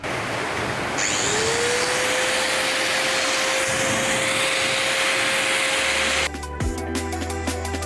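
A high-pitched power tool spins up and whines steadily while cutting a motorcycle windshield on a SYM ADXTG 400, loud and close, then cuts off near the end with a brief clatter.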